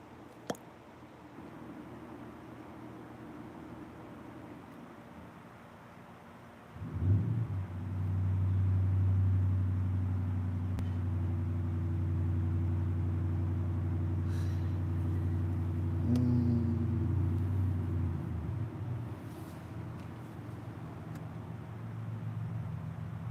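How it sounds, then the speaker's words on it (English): A truck passes outside, its low engine rumble rising abruptly from quiet background and holding steady for several seconds before fading slightly, heard alone without talk. "you hear the truck outside."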